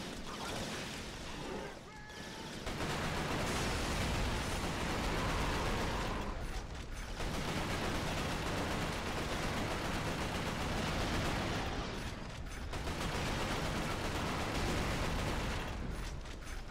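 Loud, sustained bursts of gunfire fill a first-person shooter firefight in Resistance: Fall of Man, dense and continuous with brief gaps between volleys.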